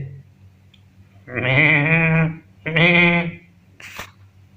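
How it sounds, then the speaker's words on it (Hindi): A goat bleats twice in close succession, two loud, wavering cries heard near and alone, followed by a brief rustle. "बकरा दौड़ता हुआ एक कमरे में घुस गया"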